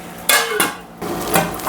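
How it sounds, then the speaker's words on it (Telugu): A metal lid clatters onto a cooking pot of liver curry, with a few sharp clanks and scrapes close by, separated by brief pauses. "మూత పెడతానా, ఉడకాలి ఇంకా."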